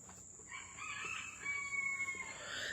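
A rooster crows in a drawn-out call from a moderate distance, fairly faint, rising and wavering over a couple of seconds against a quiet outdoor background.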